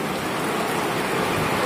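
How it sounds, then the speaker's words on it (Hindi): Heavy rain pours down steadily in hilly Uttarakhand, a dense, loud, continuous hiss with no breaks and no voices. "ऊपर से बहुत तेज़ बारिश आ रही है जी।"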